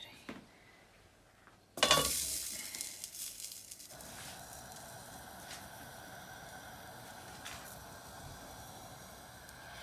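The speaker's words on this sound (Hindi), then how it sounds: "ये फ्राई पैन में मैंने कीमा डाल दिया है, जो इसका मिक्सचर बना हुआ था, इसे फ्लैट कर दिया।" Minced meat kebab mixture, flattened in a frying pan set on a hot griddle, fries with a sudden loud sizzle that then settles into a steady, moderate crackle.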